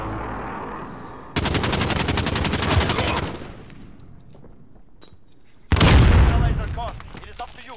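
Loud bursts of rapid gunfire and heavy booms from an airstrike in the online shooter Call of Duty Modern Warfare, Search and Destroy mode: a dense rattling volley, a quieter stretch, then a second powerful blast with trailing debris.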